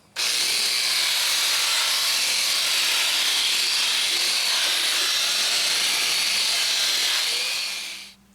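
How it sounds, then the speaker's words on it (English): A power buffer whirs against a quartzite bathroom vanity top as it gets its final polish, a loud, steady high-pitched hiss that holds for several seconds before spinning down at the end. "Now we're just going to buff this thing up, give it its final little bit of polish"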